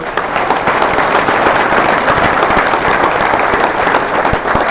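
An audience at a high school sports awards ceremony gives a loud, sustained round of applause, thick with many overlapping hand claps that hold a steady level from start to finish.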